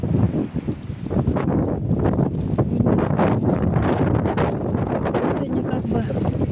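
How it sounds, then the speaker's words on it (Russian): Strong wind gusting outdoors on a blustery day, a steady loud roar and buffeting against the microphone that fills the whole stretch, with no break in the blowing. "Ветер такой."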